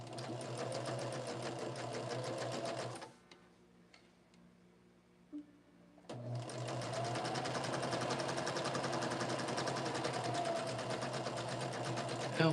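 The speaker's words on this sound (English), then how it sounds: "I'm just going to take it to my machine and stitch" Sewing machine stitching a quilt block, a loud steady rapid whir that stops briefly for a few quiet seconds with a small click, then resumes and runs continuously to the end.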